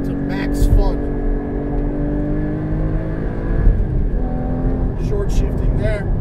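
A Porsche Cayman GT4 on a race track revs hard and climbs through the gears, with a close, loud engine whine that rises and drops around the shifts while someone talks over it.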